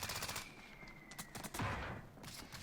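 Bursts of rapid gunfire in the shooter game Iron Trials, several quick volleys of sharp shots with short gaps, fairly close and loud, without talk.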